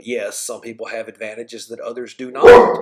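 A dog barks once, loud and close, at the end, following someone talking steadily.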